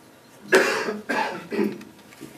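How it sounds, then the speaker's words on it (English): Three harsh coughs in a row, close and loud, each a short burst with a rough tail, about half a second apart. "Excuse me, I apologize for my cough."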